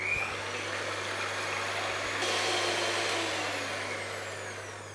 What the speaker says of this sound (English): So I'm going to start whisking this now until it forms soft peaks.